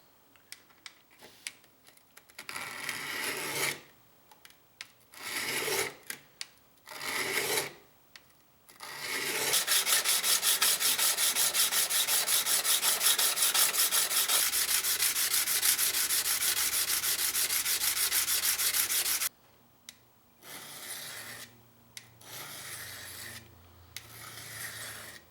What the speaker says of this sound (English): now that I've got my bevel roughed in, I'm going to finish it off on the stone.